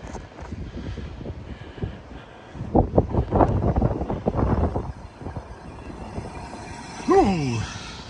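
Wind gusting during a blizzard walk through the streets of Regina, a steady rushing buffet on the microphone with rougher bursts in the middle and a brief squeaky sound near the end.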